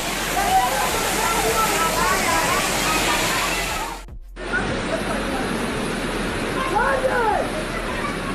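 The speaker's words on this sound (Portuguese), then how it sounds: "uma violenta inundação repentina transforma uma rua comercial em um verdadeiro rio de águas bravas" A violent flash flood torrent surges through a shopping street, a loud continuous roar of rushing water with splashing waves, briefly cut off before resuming at full force.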